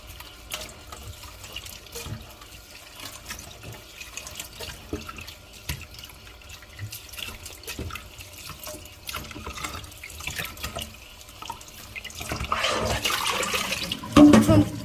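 Steady running water from a tap into a sink while food is washed to remove its starch, soft at first and growing louder and splashier toward the end.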